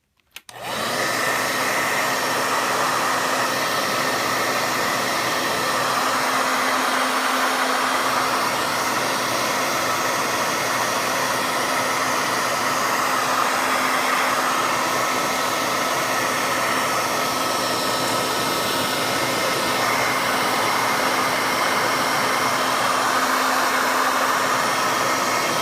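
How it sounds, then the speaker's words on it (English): Blow dryer heating a 2015+ Subaru WRX flip key, switching on abruptly and then blowing with a constant, loud, close airy whir for the whole stretch, with no talking. "I'm going to turn on the blow dryer"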